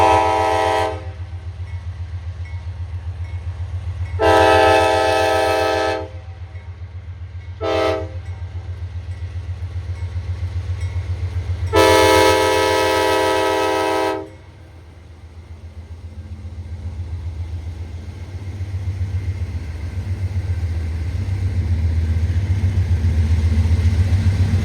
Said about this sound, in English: We got a loaded coal train.